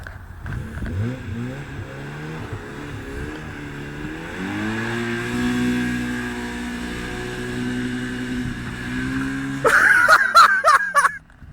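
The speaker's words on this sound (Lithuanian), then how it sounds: "Ratas čia galinis sukasi biškai" A car engine revs repeatedly with its rear wheel spinning, rising and falling pitch over several seconds before a sharper burst of rough, scraping noise near the end; a voice is heard briefly.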